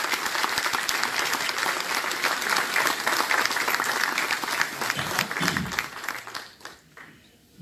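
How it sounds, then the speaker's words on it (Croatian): Loud, dense applause from a crowd welcoming a speaker at an election rally in Bihać, sustained for several seconds before tapering off near the end. "Gospodo, još jednim velikim aplauzom, molim vas, pozdravite gospodina Josipa Pelatića."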